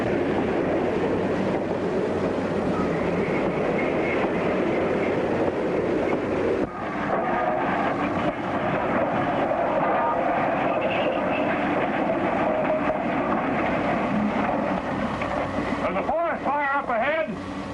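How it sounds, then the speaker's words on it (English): Steam train from a 1932 film chugging steadily along the track, a loud continuous rumble lasting throughout with a brief break partway, wavering whistle-like tones near the end and talk mixed in. "You can't stop this train."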